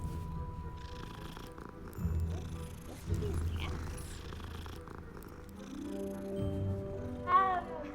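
Cat purring in the video game Hogwarts Legacy, a soft steady purr with an occasional meow, set under game music and effects.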